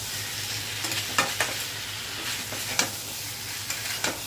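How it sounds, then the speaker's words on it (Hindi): Chopped potatoes fry in oil over a high flame with a steady sizzle, and a spoon scrapes and stirs them in soft, occasional strokes close by. "तो अब इसमें हम जितना कटा हुआ आलू को डाल देंगे और गैस का फ्लेम तेज़ कर लेंगे"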